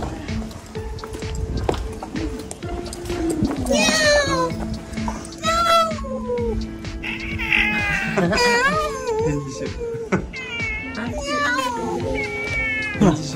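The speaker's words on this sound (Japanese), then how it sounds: "あ、にゃんこ、にゃんこ先生や。" Outdoors on a walk through a hot Fukuoka town, a cat meows repeatedly in rising and falling cries, some fairly loud and close, amid street noise and people talking.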